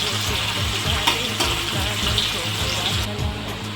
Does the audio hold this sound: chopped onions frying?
yes